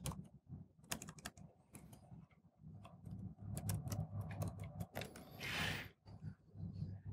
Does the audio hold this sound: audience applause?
no